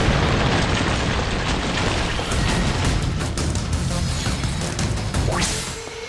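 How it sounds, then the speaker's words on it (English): Magic strikes a pillar in The Last Story video game, setting off a loud, sustained, roaring explosion with crashing debris that fades only slightly near the end. "Yurik, hit that pillar with your magic"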